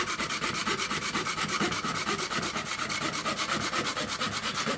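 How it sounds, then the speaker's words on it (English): A handsaw rasps back and forth through bone for a mandolin saddle and nut in a steady, rapid rhythm, each stroke a gritty scraping sound, loud and close with no talking. "You know right away that it's bone when you're sawing through it."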